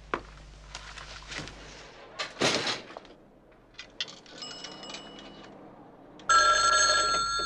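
A telephone in an army headquarters office rings loudly near the end, a bright electric bell following scattered handling clatter and soft knocks in an otherwise quiet room.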